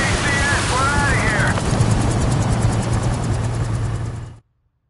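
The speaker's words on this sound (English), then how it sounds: "There's the chopper." A helicopter in the video game Modern Warfare 2 makes a steady, loud droning rotor and engine rumble. A brief voice is heard early on, and the sound cuts off abruptly near the end.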